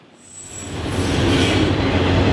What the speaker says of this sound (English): This train is probably 3 miles long